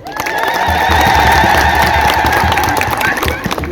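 A church congregation at a Meskel celebration in Beirut, Lebanon, applauds with dense, sustained clapping and cheering from a crowd, ringing loud and close, with voices and shouts mixed into the clapping throughout.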